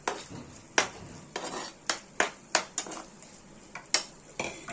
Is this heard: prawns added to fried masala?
yes